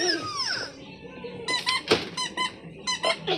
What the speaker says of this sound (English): More squeaks.